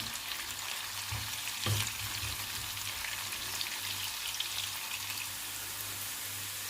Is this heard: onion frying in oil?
yes